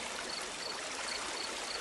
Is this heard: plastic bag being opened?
no